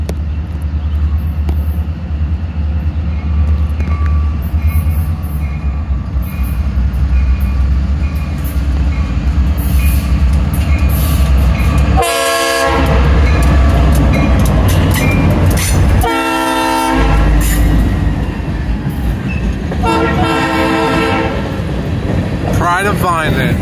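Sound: freight train passing

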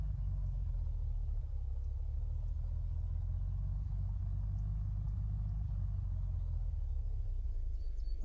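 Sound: car engine accelerating in the video game Unturned

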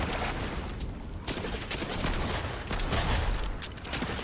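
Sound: gunfire in Fortnite video game

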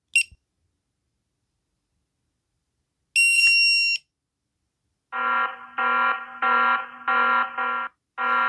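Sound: Bluetooth tracker disconnection alarm

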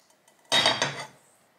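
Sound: handling a metal rice pot

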